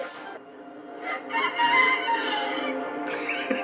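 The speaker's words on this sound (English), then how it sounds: "It's the rooster." A rooster crows in a long, loud, drawn-out call with some clucking, heard close and alone against a quiet background.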